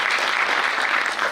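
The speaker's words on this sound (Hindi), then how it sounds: "इस ख्याल से तो ताली एक बनती है।" Loud, dense applause fills the room from the audience at the first show of the play Orchha Ke Raja Ram, a brief continuous burst with no gaps.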